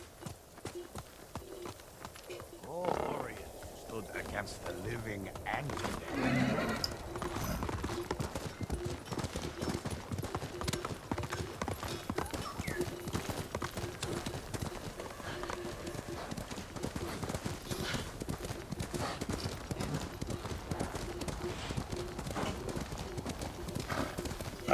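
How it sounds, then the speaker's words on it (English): A horse in the Ghost of Tsushima video game gallops with rapid, steady hoofbeats throughout, with a whinny early on, while a game voice speaks briefly. "Come on, stupid nameless horse."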